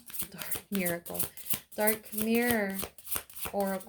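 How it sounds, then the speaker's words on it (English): A Dark Mirror Oracle card deck being shuffled for a reading: quick riffling card sounds under steady close talking. "I'm going to pull one card from the Dark Mirror Oracle"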